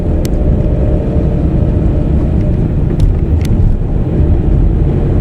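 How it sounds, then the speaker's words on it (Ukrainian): A village bus rumbles past with a steady, loud low engine drone, close by, filling the whole stretch. "оце один автобус і їде з тих, що їздить на, на Ралівку"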